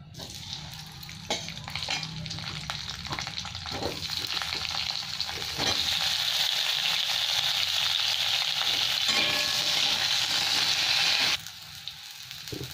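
Potatoes fry in hot oil with black cumin seeds, a strong close sizzle that swells louder through the middle with occasional stirring clatter, then eases back near the end.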